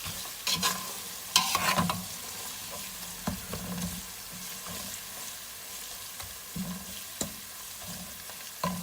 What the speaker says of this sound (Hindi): इन मसाला जात को 1-8 मिनट भूनेंगे